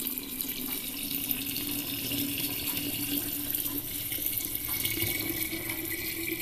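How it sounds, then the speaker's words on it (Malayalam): Water is poured into a ceramic jar to make star fruit wine, a steady, even splashing flow heard close up without any talking. "ഇനി അതിലേക്ക് നമുക്ക് വെള്ളം ഒഴിക്കാം."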